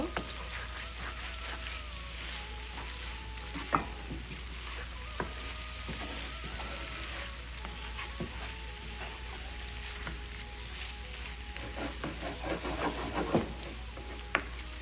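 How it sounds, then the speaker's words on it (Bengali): Prawns frying in a pan make a soft, steady sizzle with scattered pops and clicks. It stays faint and continuous throughout, with occasional sharper crackles standing out. "এই যে চিংড়ি মাছটাতে ঝোল দিব না, এভাবে ভেজে নেব"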